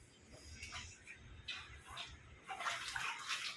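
A child splashes water in a plastic basin at bathtime, giving irregular close splashes and sloshing bursts that grow busier toward the end, with low background rumble.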